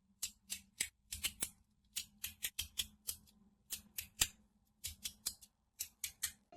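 A magnetic fidget spinner is spun, giving a close series of sharp, dry clicking rustles in irregular bursts with short quiet gaps between them.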